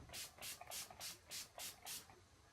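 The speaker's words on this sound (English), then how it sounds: "I'm going to go in with the Urban Decay All Nighter Setting Spray" Urban Decay All Nighter setting spray is pumped in six quick, evenly spaced bursts, each a soft, close hiss of fine mist.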